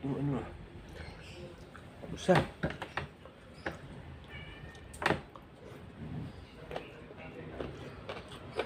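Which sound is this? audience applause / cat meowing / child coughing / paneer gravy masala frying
cat meowing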